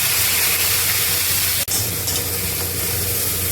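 Ginger, onion, garlic, green chilli, cumin and coriander paste hits hot oil in a pan for a Bengali fish and cauliflower curry, giving a steady close sizzling hiss with one brief dip partway through.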